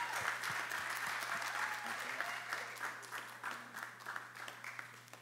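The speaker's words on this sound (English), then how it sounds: "Let's give him a big round of applause." Audience at a poetry and student performance event at a college clapping steadily; moderately loud, sustained applause that thins slightly toward the end, with a low hum underneath.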